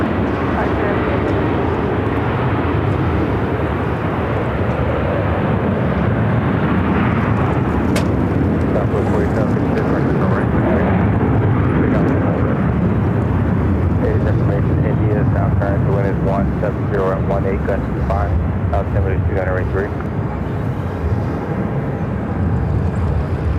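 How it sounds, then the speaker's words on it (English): American Airlines jet taking off from Phoenix airport, a loud continuous engine roar with gusty wind buffeting the microphone throughout, and a voice talking faintly beneath it partway through. "This is American Airlines flight 1691 headed to Dallas"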